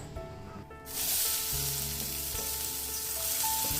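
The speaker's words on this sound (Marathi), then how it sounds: "तेल गरम झाले की घालूयात बारीक चिरलेला कांदा" Finely chopped onion hitting a couple of spoons of hot oil in a kadhai, kicking off a loud, steady sizzle that starts after a brief quiet moment and keeps hissing evenly to the end.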